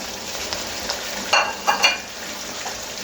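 Carrots stir-fry in hot oil for chicken vegetable fried rice, giving a steady sizzle with several louder bursts as a spatula tosses and scrapes the pan.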